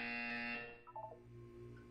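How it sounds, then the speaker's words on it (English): A harsh electronic buzzer from the video game Portal 2 drones for about half a second, then a short chirpy tone sequence follows, with a faint hum lingering underneath. "You will hear a buzzer."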